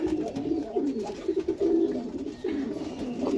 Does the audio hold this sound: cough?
no